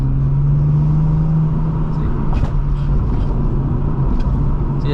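Custom tuned Lexus IS350 cruising at normal speed on rough Puerto Rico roads, a steady low engine drone and road rumble heard from inside the car, with no pops or crackles.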